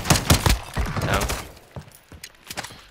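Rapid bursts of gunfire from Call of Duty: Modern Warfare II, dense and loud at first and then thinning into scattered sharp shots and thuds.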